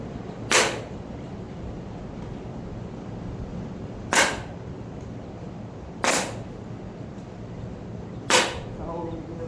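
A staple gun drives staples to hold pieces together, giving four sharp, loud single snaps spaced a couple of seconds apart over a low background hum.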